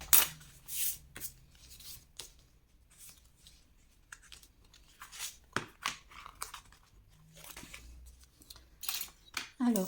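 Scissors trimming scrapbook paper in an album craft, a series of quick snipping and rustling bursts scattered throughout, close and fairly crisp, with some paper handling between cuts.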